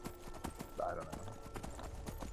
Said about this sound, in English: Go, horse. Faster!